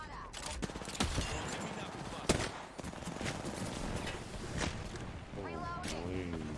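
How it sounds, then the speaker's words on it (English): Gunfire in Apex Legends: repeated sharp shots and bursts crackle in rapid succession over dense game noise, with a voice speaking briefly near the end. "Getting shot at."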